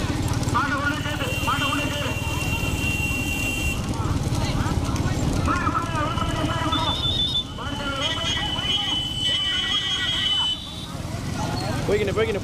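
Hooves and a cart rumble past during a rekla bullock cart race, with racing bulls pounding along amid a dense, continuous crowd roar and shouting, plus engine and horn-like tones from nearby bikes throughout.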